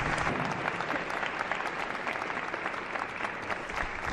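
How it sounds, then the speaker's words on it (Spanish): Studio audience applauding steadily throughout at a TV show on mysteries, a dense, even wash of many hands clapping at close range with no voices over it. "un gran aplauso."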